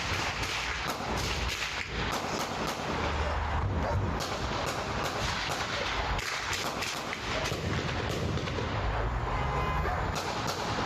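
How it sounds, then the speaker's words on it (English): Rifle rounds fired at officers during a police standoff in Bakersfield, heard as a rapid chaotic string of sharp cracks over a continuous loud, noisy din. "and then the shots."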